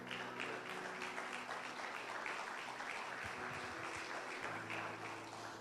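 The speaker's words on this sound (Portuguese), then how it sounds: "Você pode dar um aplauso ao Senhor?" Church congregation applauding steadily throughout, a dense wash of clapping at moderate level with faint organ or keyboard tones sustained underneath.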